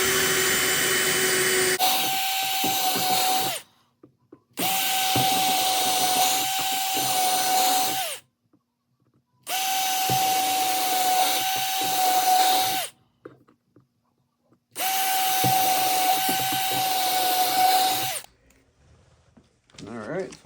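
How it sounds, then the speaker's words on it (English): A power drill with a 1/8 inch bit bores into a barn door fitting during a home installation: four sustained whirring runs of about three seconds each, separated by short silences, loud and close. "I'm using an 1/8 inch bit, putting it right on the hole there"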